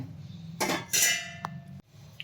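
Metal clattering and scraping in a pan as a metal slotted spoon scoops out peanuts, with a few sharp clinks and a brief ring.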